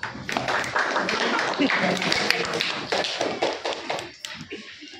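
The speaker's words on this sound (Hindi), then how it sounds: "जोरदार ताली से स्वागत करेंगे गायत्री का" An audience applauds to welcome a guest at a Hindi interview event with mountaineer Arunima Sinha, a dense, steady burst of many hands clapping that tapers off toward the end, with faint voices underneath.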